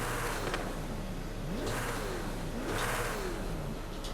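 A Koenigsegg CCX engine in the racing game Forza Horizon 5 revs hard in repeated swells, pitch climbing and falling about three times under a constant loud mechanical roar.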